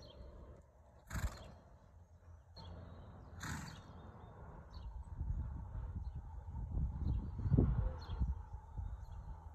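Horses walking around a show arena, with soft, uneven hoof steps and a couple of sharp, brief snorts or whinny bursts early on. A low, rumbling arena background swells toward the end.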